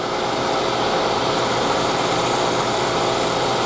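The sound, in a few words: hole punch spinning in a drill chuck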